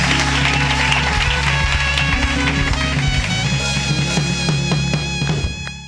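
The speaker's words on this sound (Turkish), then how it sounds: "Maalesef kelimeyi de alkışlıyoruz Damla'yı." Studio audience applause on a Turkish late-night talk show, steady dense clapping sustained throughout under background music, tapering off at the very end.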